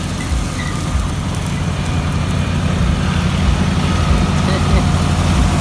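A new John Deere 5210 tractor in Punjab idles steadily nearby, a continuous low engine rumble with broadband noise that holds even and loud through the whole stretch, with no clear speech over it.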